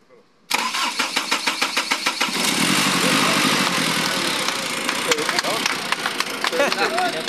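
A Ford Everest with no electrical supply fault cranks in a quick rhythmic chug, then catches and settles into a steady close idle.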